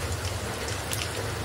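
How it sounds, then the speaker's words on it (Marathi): Heavy monsoon rain falling outside a home kitchen during a thunderstorm, a dense continuous hiss and patter of drops with a low steady rumble, no voices. "भरपूर पाऊस चालू आहे, वीज पण चमकते, पाऊस आहे।"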